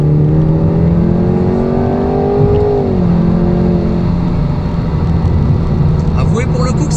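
A Jaguar sports car in sport mode accelerating hard, its engine note droning steadily from inside the cabin with a shift in pitch midway as it keeps pulling.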